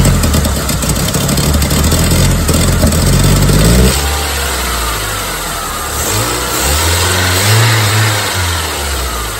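A 1999 Saturn SC1 with a SOHC engine, low on fuel pressure from a bad fuel pump, runs loud and close, revving hard for the first few seconds, then settling to a steadier rumble with a couple of smaller throttle swells.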